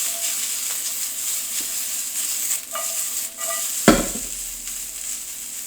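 Carrots cook in a pot alongside green onion for Japanese short ribs, making a loud continuous hiss of sizzling with a single solid clunk of a utensil near the end, with no one speaking.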